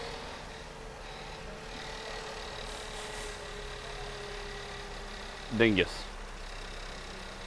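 A Volkswagen Passat with oil consumption and a misfire problem idles in a low, steady drone, and a short voice briefly speaks over it.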